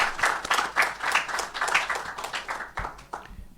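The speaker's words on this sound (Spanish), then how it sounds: "despedimos a nuestro amigo Oso con un fuerte aplauso" Applause from a conference audience after a speaker finishes, a moderate room of hands clapping in uneven bursts that thin out toward the end.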